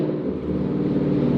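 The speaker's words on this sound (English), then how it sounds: "This car sounds so good." A steady engine hum drones inside a moving Ford Mustang, low and constant with no noticeable revving.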